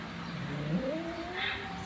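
Two pet cats, Buja and Tera, play-wrestle, and an angry, drawn-out yowl rises and wavers through a soft, noisy room background.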